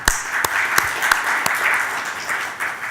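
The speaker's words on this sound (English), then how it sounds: "let's kickstart the event with a big round of applause for each others" Audience applause at an annual dinner following an AGM, a dense steady clapping from a crowd lasting the whole stretch, with a few sharper individual claps standing out near the front.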